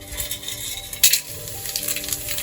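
Whole spices frying in oil in a pan for chicken pulao, a close steady sizzle with light stirring and a sharp metallic clink midway, no voices.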